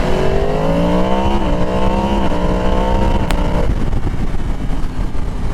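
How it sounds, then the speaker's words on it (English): A 2022 Yamaha MT-10's crossplane CP4 inline-four engine revs loud and close, its pitch climbing through several steps before dropping off into a rumbling idle. "Oh, that sound that comes out of the CP4, it's so good."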